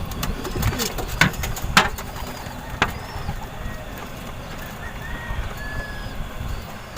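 Hungry pigeons in a loft, including blue bars, coo with low, soft murmurs through a busy flock backdrop, while sharper flutters and taps break in now and then.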